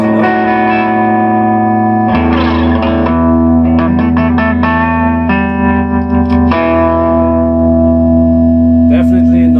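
Electric guitar through a tube amp with its voltage raised to about 150 volts on a variac plays loud, distorted chords and riffs with sustained, ringing tones and some reverb, close and continuous.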